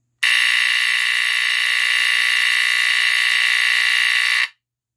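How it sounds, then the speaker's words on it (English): First Alert SA769AC smoke detector under test, its electromechanical vibratory horn giving one continuous loud, raspy, angry buzz for about four seconds before cutting off abruptly. "That same angry, raspy buzz of that BRK electromechanical vibratory horn."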